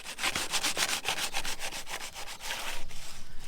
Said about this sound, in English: he's just sanding it down and then sanding down the putty